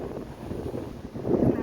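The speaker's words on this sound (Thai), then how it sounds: "บรรยากาศลมนะครับลมอาจจะ อันนี้ลมแรงนะครับ" Strong wind blowing outdoors at Saphan Daeng (Red Bridge) around 6 pm on a weekday, a steady low rushing buffet on the microphone that swells louder toward the end.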